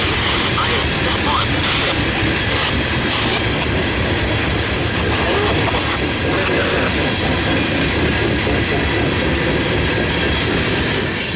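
A 115-car coal freight train rolls past on the CSX A Line, a continuous loud rumble of wagons with rhythmic wheel clatter and occasional squeal, steady for the whole stretch.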